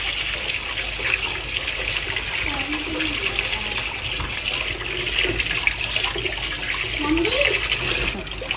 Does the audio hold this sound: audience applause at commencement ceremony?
no